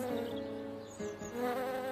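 A cartoon fly character buzzes steadily for about two seconds, a close, continuous insect drone with a brief dip in the middle and no talking over it.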